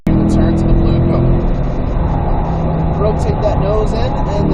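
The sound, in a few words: car accelerating through turn during driving lesson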